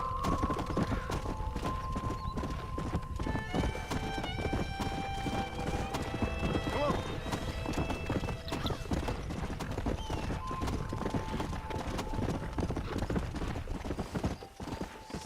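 Horse hooves clip-clopping steadily in Red Dead Redemption on PC, with a whinny rising over the continuous trotting rhythm and faint game ambience throughout.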